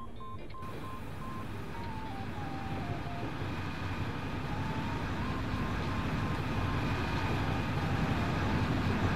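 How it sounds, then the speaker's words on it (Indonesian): A Jatiraja extra passenger train passing slowly through a mountain station in Indonesia, a steady low rumble of wheels and engine building gradually over several seconds, with a faint stepped tonal hum near the start. "Nah, itu dia kereta apinya ya."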